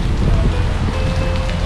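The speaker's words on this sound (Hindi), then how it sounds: "ज़बरदस्त बारिश हो रही है।" Heavy rain pours in Karachi, a steady loud broadband roar with wind buffeting the microphone, close and continuous without speech.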